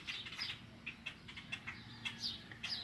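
Several birds chirp and squabble in short, sharp tweets scattered over a few seconds, faint and distant, with no voices.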